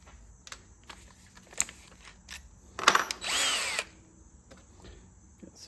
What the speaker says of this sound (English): Let's get a smaller pilot drill.